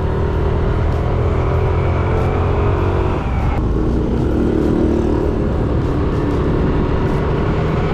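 A motorcycle is ridden along a road. Its engine drones steadily and close by, with a clear shift in pitch partway through as it changes gear. No one talks over it.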